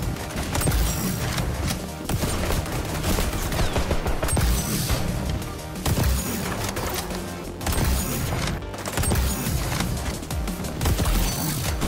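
Continuous gunfire in the video game xDefiant during a sniper round, with repeated sharp shots and bursts over steady battle noise for the whole stretch.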